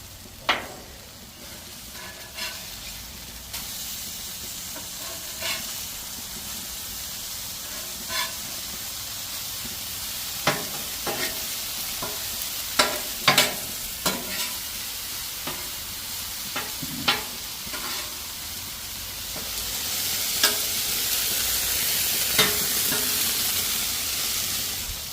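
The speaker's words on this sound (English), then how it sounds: "we're going to give these burgers a flip" Burgers sizzle on an outdoor Blackstone griddle while being flipped with a spatula, a soft steady hiss broken by repeated sharp scraping clicks and taps, with the frying swelling louder near the end.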